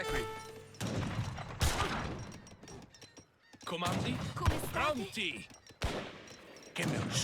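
Gunfire from Lancer units in a strategy video game, scattered volleys and sharp shot cracks mixed with game effects, with a voice talking over parts of it.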